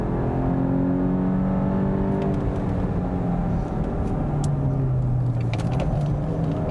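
A 2022 Volkswagen GTI accelerates hard through a sharp corner, its engine a loud, close whine that climbs and then drops, with faint tire and road noise beneath.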